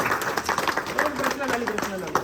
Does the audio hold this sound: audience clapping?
yes